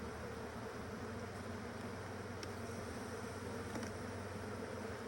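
Honeybees buzzing around a queen in an open hive in Alaska, a dense steady close drone with occasional individual bees passing nearby, alone without talk.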